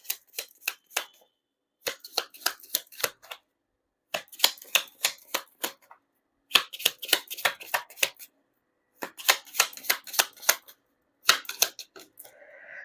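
Tarot cards are shuffled by hand in quick repeated bursts of crisp, close riffling clatter, separated by short silent pauses, with no talking.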